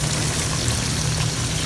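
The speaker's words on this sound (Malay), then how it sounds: "Lepas tu kita masukkanlah air." Water pours steadily into a pot alongside coconut milk during home cooking, a continuous splashing wash with no talk.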